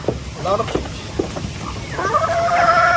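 Chickens cluck nearby while people talk over them, and a drawn-out crowing call rises toward the end.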